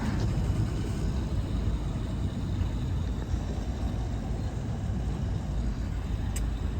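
A Mazda FC RX7 on the road just after a brake bleed, its engine and road noise forming a steady, loud rumble that holds throughout with no talking.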